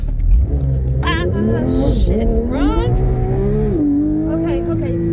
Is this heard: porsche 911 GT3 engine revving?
yes